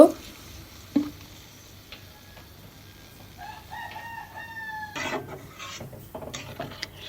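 Coconut milk being stirred into a Bengali taro stolon (kochur loti) curry, with soft sizzling and scattered scraping stirs over a steady low hum, plus a few brief sharper knocks; moderately close and fairly quiet, no talk.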